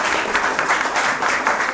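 Audience at a school quiz competition breaking into applause, a dense, steady patter of many hands clapping close by with slight swells in intensity.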